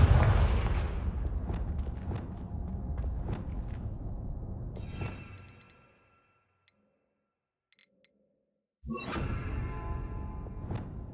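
Confringo blasting spell explosions in Hogwarts Legacy, a run of booming impacts and crackles that fades into near silence, followed by faint ticks and then a sharp new burst.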